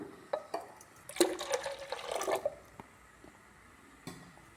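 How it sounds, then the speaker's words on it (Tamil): Water poured a little at a time into thick ground urad dal batter for traditional village porridge, a short splashing, gurgling pour in the middle framed by faint clinks and taps of the vessel. "இதில் கொஞ்சம் கொஞ்சம் தண்ணி ஊற்றிக்கலாம்"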